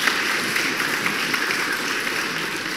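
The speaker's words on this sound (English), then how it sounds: "wait for the applause?" An audience applauds after a speech at a political panel event: a dense, steady wash of many hands clapping, fairly loud and close, continuing evenly throughout with no talking over it.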